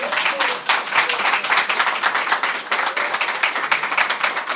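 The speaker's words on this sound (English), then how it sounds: "Did I hear a round of applause for that?" Applause at a digital literacy training launch, a dense crowd clapping steadily and fairly close for the full stretch with no break.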